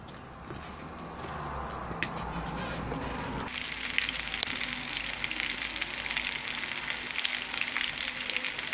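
Red pepper and tomato fritter batter frying in a hot pan, a steady dense sizzle that grows louder and brighter partway through and then holds, close and continuous with no talking.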